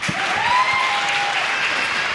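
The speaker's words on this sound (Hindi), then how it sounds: "तालियां तालियां तालियां" An audience at a live Hindi comedy show by Raju Srivastav applauds with steady clapping, moderately loud and sustained, with a brief tonal whistle-like sound passing early on.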